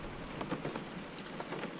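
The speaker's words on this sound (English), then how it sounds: "hopefully you can hear me over the rain" Steady rain falls in a dense, continuous patter with scattered louder drops, moderately loud and alone with no talking.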